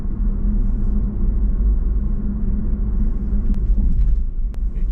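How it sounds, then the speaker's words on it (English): An electric car pulls away from traffic lights, a low steady rumble of road and motor noise heard from inside the cabin, with no clear engine note and brief faint clicks near the end. "the joys of an electric car is that it just picks up"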